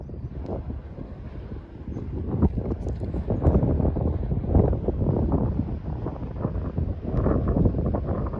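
Gusty wind on open upland near the Cambrian wind farm buffets the microphone in uneven, rumbling surges that rise and fall loudly over several seconds, with no voices.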